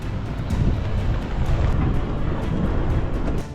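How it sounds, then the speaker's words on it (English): Strong wind gusts tear across an exposed Lake Powell campsite, a loud continuous low roar buffeting the microphone, swelling and easing slightly before dropping near the end. "The forecasted wind has arrived"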